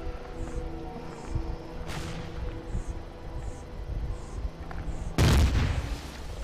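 Gunfire in the space survival game Empyrion - Galactic Survival, machine guns shooting at a ship. A few sharp blasts stand out over a steady low engine hum, with the loudest burst near the end.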